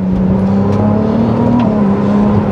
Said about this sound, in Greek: Καρφώνει τις ταχύτητες, τραντάζει όλο το αυτοκίνητο